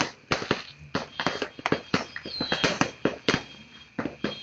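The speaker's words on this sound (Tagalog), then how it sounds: "Digital yan na fireworks." Digital fireworks crackle and pop in rapid, irregular bursts, a dense run of sharp cracks and snaps that is close and fairly loud, with no speech over it.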